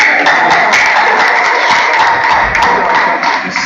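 Crowd applauding at a pool match in Cape Town, loud continuous clapping from many hands throughout.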